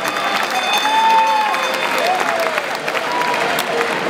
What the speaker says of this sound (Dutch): Geef ze het applaus, geef ze ondersteuning.